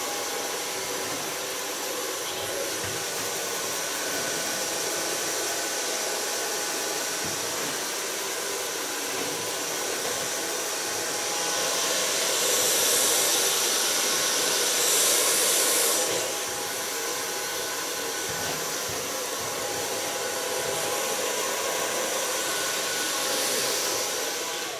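A hair dryer blows hair dry in a steady, close airy roar that swells louder for a few seconds in the middle as the nozzle moves nearer.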